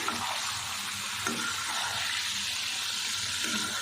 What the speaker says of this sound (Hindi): अब थोड़ी सी आंच हम तेज़ करेंगे और इसको हम अच्छे से भून लेते हैं मसाले के साथ 3 से 4 मिनट।